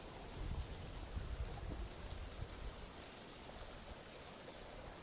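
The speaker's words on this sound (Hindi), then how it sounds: "ये उतना बड़ा झरना नहीं है वैसे, लेकिन ये काफ़ी खूबसूरत झरना है नालाबोन में" A small waterfall at Nalabon rushes with a faint, steady hiss of falling water and no voices.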